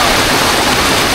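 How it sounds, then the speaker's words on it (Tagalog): Heavy rain pours in a steady, dense roar, loud and close, filling the brief moment with continuous hiss and no break; no distinct thunder clap stands out. "Malakas na ho ang ulan, may kasama pang kidlat at kulog."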